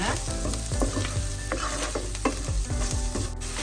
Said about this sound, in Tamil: இந்த தனி மிளகாய் தூள்ல வெங்காயம் வதங்கி வர